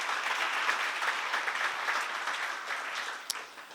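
Applause from a church seminar audience, a steady dense patter of many hands clapping throughout, fading slightly toward the end, with no talking.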